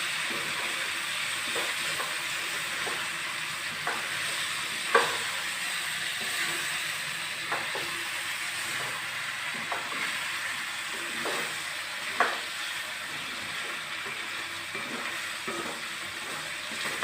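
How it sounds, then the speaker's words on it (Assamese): Duck meat fries in a covered pan with a steady, even sizzle throughout, broken by scattered pops and crackles, two of them louder than the rest. "সময় ভাজিব লাগিব আৰু অলপ সময়ৰ কাৰণে ভাজি ৰাখোঁ।"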